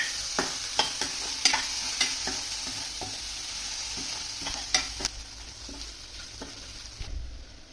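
Chopped onion frying in a pan for masala bhindi, a steady sizzle broken by repeated scraping strokes of a spoon stirring, close and fairly loud with no talking.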